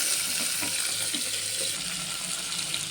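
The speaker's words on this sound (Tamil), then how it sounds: "கடுகு, ஜீரகம், கடலைப்பருப்பு கொஞ்சம் போட்டுட்டு நம்ம தாளிச்சிடலாம்" Mustard seeds, cumin and chana dal tempering in oil give a constant bright hiss with faint crackles running through it, steady and close from start to end.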